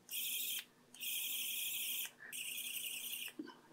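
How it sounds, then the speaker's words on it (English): Small 3-volt motor of a Wowstick 1F+ cordless electric screwdriver running with a modified gearbox, giving a thin high-pitched whine in three short bursts with brief pauses, close and fairly faint, with no talking. "With the modified gearbox attached to the original motor then, let's give it a quick check before reassembly."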